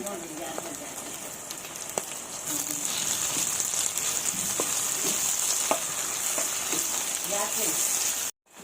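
Capsicum and tomato pieces frying in a pan for a spicy curry, a steady bright sizzle with occasional spatula taps against the pan; the sizzle swells after a couple of seconds and continues throughout.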